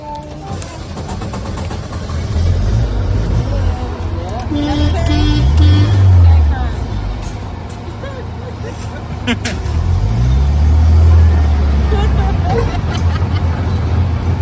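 Vintage Amphicar amphibious car driving on a Disney tour, a steady engine and road rumble that swells and eases, with passengers chattering and a guide talking over it throughout.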